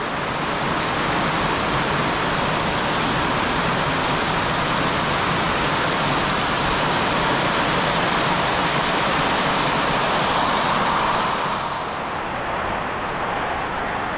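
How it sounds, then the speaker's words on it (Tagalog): Heavy rain pours steadily and loudly for the whole stretch, a dense, unbroken hiss like a downpour close by, with no voices over it. "Umuulan na naman."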